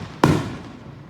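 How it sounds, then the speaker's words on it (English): A single sharp firework bang goes off in a residential neighborhood during a Fourth of July celebration, a loud close burst that decays quickly. "people could hear how the fireworks sound right here in my neighborhood where I live"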